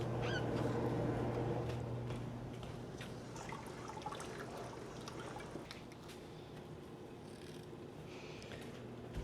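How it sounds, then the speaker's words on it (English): Hot jars of peach jelly eased into a water bath canner, a low steady rush and slosh of water with faint trickling and light clinks, fairly close, no talking. "Now I'm going to put these in the water bath canner."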